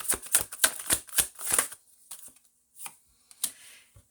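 Tarot cards being shuffled by hand in a rapid run of crisp riffling flicks, then a few scattered softer card slaps after a pause; close and fairly loud, with no talking.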